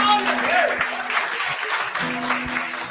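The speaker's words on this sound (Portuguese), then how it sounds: "Aplaudam mais uma vez a Jesus." Church congregation applauding Jesus, a dense sustained wash of clapping under continuous loud preaching over a microphone.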